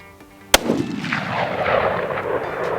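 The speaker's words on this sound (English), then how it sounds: "to think I pulled a little bit on that first shot." A single loud, close rifle shot from a Ruger American Gen 2 chambered in .308 cracks sharply, then rolls into a long, rumbling echo across an outdoor range.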